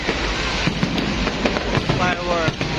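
A fireworks display in Ayala, Cebu crackles and pops continuously at a distance, with repeated sharp bursts over a dense, noisy background of crowd sound.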